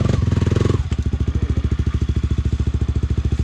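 A Honda CRF300L motorcycle runs steadily while riding, its engine thumping in a fast, even pulse close to the microphone after a brief louder rev at the start, with no talk over it.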